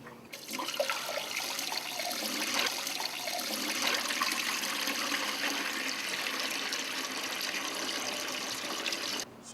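Water pours steadily into the storage tank of a bottle water cooler during servicing, a continuous rushing, trickling wash lasting several seconds at moderate level, with no talk.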